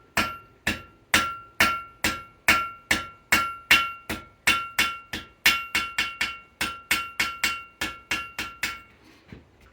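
Blacksmith hammering a taper onto the end of hot steel on an anvil, about twenty-five sharp ringing blows at a steady, slightly quickening rhythm, close and loud with no talk.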